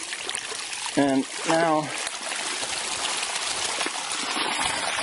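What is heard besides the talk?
flowing water stream being shut off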